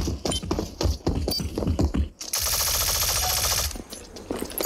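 Gunfire in the online shooter Rogue Company in a Brazilian favela setting: a string of sharp, punchy shots in the first half, then a sustained burst of rapid fire, loud and close.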